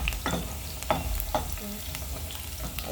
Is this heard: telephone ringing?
no